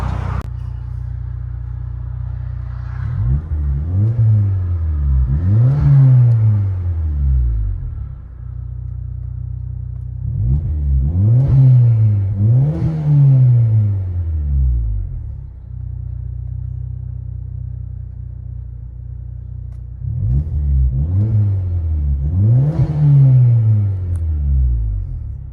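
Interior view of a 2008 Saab 9-3 2.0L turbo with straight-pipe exhaust: a loud, steady droning idle broken by three rising revs that climb and fall back, each burst rasping and booming before settling.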